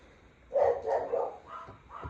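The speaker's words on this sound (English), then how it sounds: "now you're going to hear the dogs too" Several dogs bark nearby, a quick run of four or five sharp barks that starts abruptly after a quiet moment, moderately loud, with no talking.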